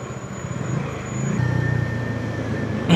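Road traffic heard from a motorcycle in city congestion: a steady engine drone with a shifting tonal whine and passing vehicle noise, growing slightly louder toward the end.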